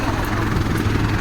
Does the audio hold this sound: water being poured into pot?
no